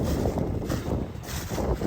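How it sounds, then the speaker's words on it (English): Farm tractor idling at low engine speed during an ear-corn harvest, giving a soft, steady low rumble with gentle pulsing throughout. "I'll slow the tractor down, idle it way down"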